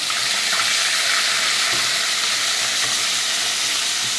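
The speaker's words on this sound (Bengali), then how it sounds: "আমি মাছের মাথাটাকে এখন ভেজে নেবো, একটু কড়া করে ভাজতে হবে।" Fish heads frying hard in hot oil, a dense, steady sizzle that fills the clip without a break, with faint stirring underneath and nobody talking.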